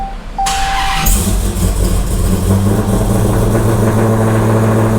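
A Dodge Hellcat V8 fires up with a sharp starter burst, then settles into a loud, deep, steady idle with a droning low rumble that holds close and strong throughout.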